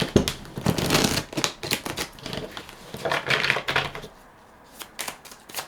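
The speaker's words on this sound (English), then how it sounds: "I feel like I need to shuffle that one more time" Thin, gold-edged tarot cards are shuffled in several quick bursts of close, crisp riffling and clicking, which fade to near-silence toward the end.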